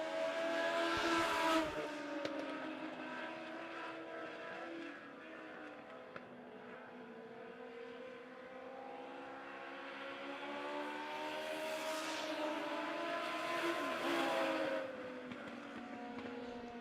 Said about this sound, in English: Cole Fry has got Kenny Foster in his sights as they go down the backstretch.